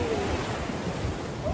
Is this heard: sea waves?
yes